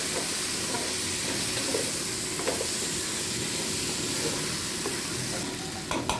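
Potatoes and mixed vegetables sauté in masala for a Saravana Bhavan style vegetable kurma, a steady close sizzle and fry with occasional stirring scrapes throughout, no voices.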